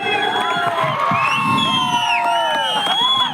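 Children in an audience whistle and cheer together, a loud, continuous crowd din with shrill whistles sliding over the shouting throughout.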